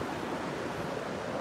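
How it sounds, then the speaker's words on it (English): Steady, soft rush of ocean surf washing in at Vilano Beach, Florida, at night, a continuous broadband hiss with no voices. "Look at the water coming."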